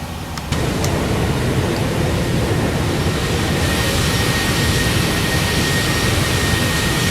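Steady, loud airplane engine roar in the X-Plane 12 flight simulator, heard from an external view, a broad unbroken drone that holds for the full stretch with no talk over it.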